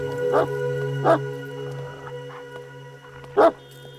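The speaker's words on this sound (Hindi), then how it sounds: "4 दिनों से तो सर को भी देखकर भौंकने लगता है।" A dog barks three separate times, sharp single woofs spaced out over a low steady hum, fairly close and loud, with no one speaking.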